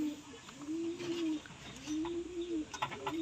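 Stock pigeons coo in a loft, a few soft rolling calls repeating one after another close by, with faint chirps and light background noise.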